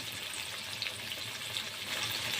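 Breaded chicken panee frying in a pan, giving a steady, close hiss of sizzling oil that runs evenly throughout without any talk.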